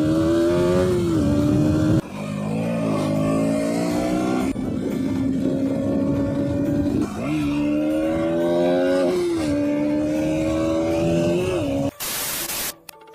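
A KTM Duke 200 motorcycle engine revs in repeated rising and falling pulls, loud and close, with a sharp burst of noise near the end.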